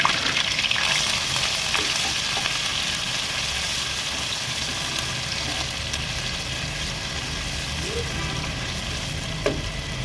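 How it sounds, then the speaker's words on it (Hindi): Ginger garlic paste fries in a kadai, a steady broad sizzle going on throughout with a few faint clicks of stirring and no voice. "सबसे पहले यहाँ पे मैंने अदरक लहसुन का पेस्ट लिया, इसको मैं हल्का सा फ्राई करूँगी"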